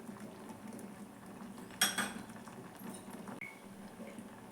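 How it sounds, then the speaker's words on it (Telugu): A spoon stirs fried grated carrot into simmering sago and carrot payasam in a pot, with a soft bubbling bed, one brief clinking scrape of metal against the pot, and a fainter tap later, close but quiet and without speech. "మనం క్యారెట్ తురుముని ఇప్పుడు ఇందులో కలుపుకోవాలండి"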